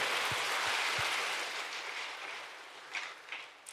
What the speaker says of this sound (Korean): 하나님께 감사와 영광의 박수